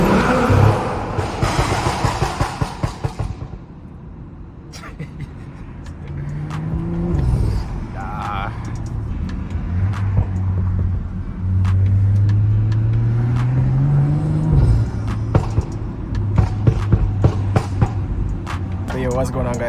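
A BMW F30 335i with exhaust pops turned to maximum, burbling and rumbling while driving, with turbo and engine revs rising and falling, loud and close, as someone talks over parts of it.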